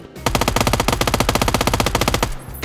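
A long burst of rapid automatic gunfire from the video game PUBG, loud and close, firing in an even fast rhythm for about two seconds before stopping abruptly.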